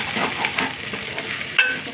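Egg and spinach curry fries in a pan: a soft continuous sizzle with a few light scrapes of stirring, ending in a brief metallic clink. No one speaks.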